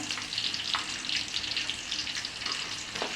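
Onion with ginger paste and garlic paste frying in a pan for a Bengali rohu fish curry with potatoes, a continuous bright sizzle with stirring scrapes, close and moderately loud.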